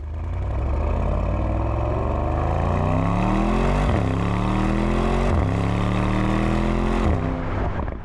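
A loud Mercedes-AMG GT 63 engine with a deep exhaust note revs hard, climbing in pitch and dropping briefly at each gear change, running continuously.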